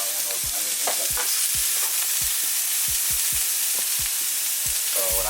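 Onions and peppers browning in a hot pan for a vegan okra scramble, a steady loud sizzle with a spatula scraping and tapping the pan at a brisk, uneven rhythm.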